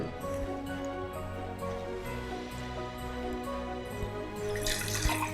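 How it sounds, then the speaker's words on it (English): Water running steadily into a pot of dried zobo (hibiscus) leaves in a home kitchen, a continuous soft pouring stream with a brief brighter splash near the end, no talking over it. "I'll add some water."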